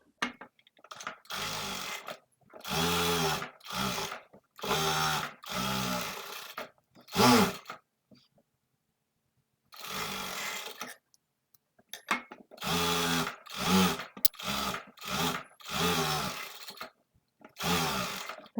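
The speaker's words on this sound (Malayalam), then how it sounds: "ഈ ലൈനിങ് ക്ലോത്ത് ഇതിന് മുകളിലൊന്ന് പതിച്ച് സ്റ്റിച്ച് ചെയ്ത് കൊടുക്കുക" A sewing machine stitches lining cloth onto a baby frock, whirring close by in loud, steady bursts of a few seconds each. A longer silent pause falls partway through.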